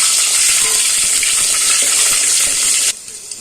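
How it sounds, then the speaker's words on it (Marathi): Garlic sautéing in a hot pan, a continuous loud hissing sizzle with faint stirring clicks that drops off abruptly near the end. "लसूण हे चांगलं परतून घ्यायचं आहे"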